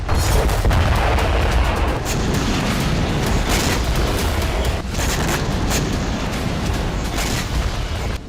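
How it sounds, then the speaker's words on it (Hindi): Continuous rumbling booms and blasts roll on near a hospital in Gaza amid repeated rocket fire, with repeated sharp bursts punctuating a dense, loud roar. "अस्पताल के आसपास लगातार धमाके हो रहे हैं"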